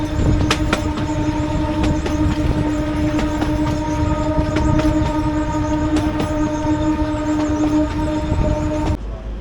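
A narrow gauge passenger train on the Bilimora–Waghai line rolls along with a loud continuous rumble and rhythmic wheel clacks, while a sustained horn-like tone sounds through most of the run before cutting off at the end.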